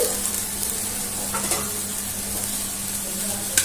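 Aloo paratha frying in oil on a pan over raised flame, a steady dense sizzle with a faint low hum and a couple of light utensil taps.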